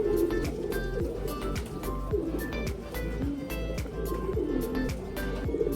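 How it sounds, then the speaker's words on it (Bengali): Milk-khaki pigeons coo softly in a low, repeated rolling rhythm, layered with sharp clicking and fluttering sounds from the birds throughout, at moderate distance with no talking. "আমাদের এই দুধ খাকি কবুতরগুলা"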